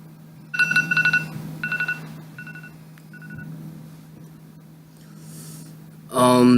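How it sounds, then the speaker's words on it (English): A phone timer alarm goes off after five minutes, sounding a few short bursts of electronic beeping tones that fade between groups over a low hum, followed by a brief louder burst at the end. "So I'm going to set a phone timer for 5 minutes"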